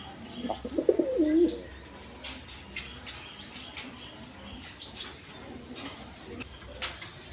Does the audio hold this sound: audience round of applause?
no